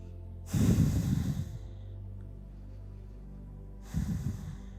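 Two deep breaths during a yoga session, each a strong rushing exhalation through the nose and mouth, separated by a quiet pause, close and clear with no talking.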